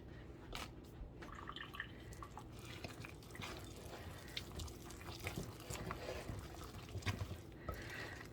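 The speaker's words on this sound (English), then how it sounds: "And I will strain the water off of my blueberries." Water being strained off blueberries in a home kitchen while baking, giving a close, continuous trickle and patter of draining liquid with scattered drips.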